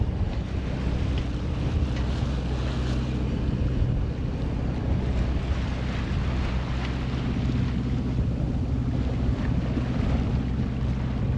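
A sailboat runs across the open ocean at sunset, with a loud, constant rush of wind buffeting the microphone and water washing past the hull, steady and unbroken with no voices.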